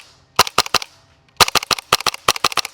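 A WELLPRO PPK20 airsoft gas blowback rifle fires sharp, snappy shots on semi, first a quick burst of about five, then after a short pause a longer rapid string of about ten, each crack close and loud with the bolt clacking.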